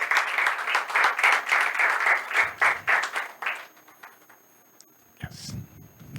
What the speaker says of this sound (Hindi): एक बार और जोर से ताली मार के वेलकम करेंगे.